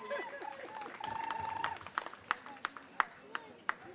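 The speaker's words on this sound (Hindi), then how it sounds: "आप तालियां तो बजाइए। तालियां बजाओ।" Scattered claps from a small group at an Independence Day celebration, starting loose and settling into a slow, uneven rhythm, with faint voices underneath.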